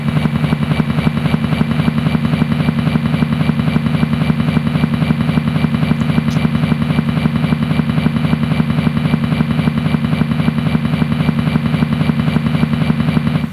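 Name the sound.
helicopter landing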